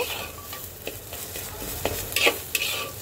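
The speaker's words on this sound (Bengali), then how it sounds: "চিনিটা দেওয়ার পরে খুব সুন্দর করে মিক্স করে দেব" A utensil stirs sugar into taro chechki, a mashed Bengali side dish, in a sizzling pan. Soft scraping strokes and a few sharper clinks sit over a low steady frying hiss.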